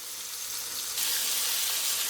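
Garlic butter spareribs browning in a hot pan give off a steady, bright sizzle and crackle that swells louder partway through and holds, close up with no voices.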